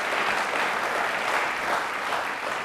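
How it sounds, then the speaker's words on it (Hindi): A studio audience at a Doordarshan Rajasthan general knowledge quiz show claps loudly and continuously, a dense, even wash of applause throughout. "प्लीज़ एक बार हम सबके लिए तालियां वापस से जोरदार होनी चाहिए।"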